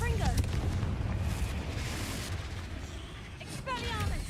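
A Confringo fire spell from the Hogwarts Legacy video game blasts with a dense, rumbling burst, its crackling roar sustained throughout under game noise and a voice calling out.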